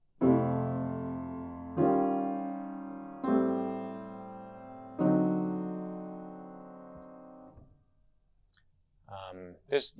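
Four sustained piano chords struck one after another, each ringing out and decaying, followed by a brief pause and a short vocal sound at the end.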